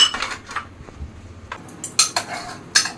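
Plates and cutlery clatter while food is served, close and sharp, in a handful of bright clinks and taps with quieter gaps between them.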